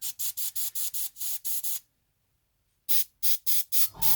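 Repeated short bursts of an airbrush spraying paint onto a miniature's eyes, about eight quick hisses, a pause of silence, then several more bursts close by.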